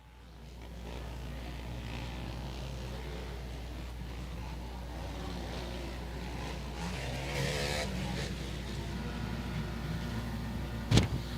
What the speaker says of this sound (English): The revs are up.